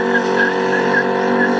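A single-turbo BMW 335i doing a tire burnout, a loud, close, continuous tire squeal with a wavering pitch over a steady engine drone.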